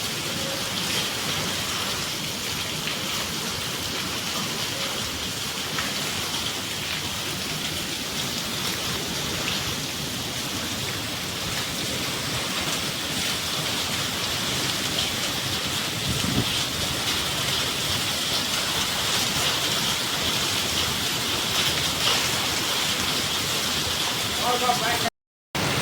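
Heavy rain pouring onto metal roof sheets in Mahuva, Bhavnagar district, Gujarat, a loud dense unbroken roar of drops and runoff lasting the whole stretch, with a voice speaking over it.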